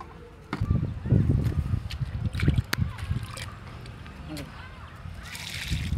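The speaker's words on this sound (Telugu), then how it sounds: "కొంచెం నీళ్ళు పట్టుకుంటాం." Water is poured into a 20-litre can while preparing jeevamrutham, making a sloshing, splashing rush that is loud at first and then eases to a lighter trickle. A person talks over it.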